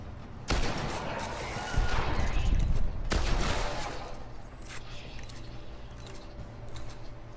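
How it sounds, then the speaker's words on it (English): Loud gunfire from the Destiny beta game, a sharp blast followed by a booming burst and another heavy shot, with rumbling effects trailing off into quieter game ambience. "Let's shoot these people."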